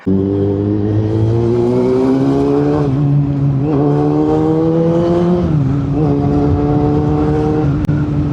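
A Honda CB400 motorcycle engine while riding, a loud close steady drone whose pitch climbs and drops through several gear changes, with a sharp click near the end.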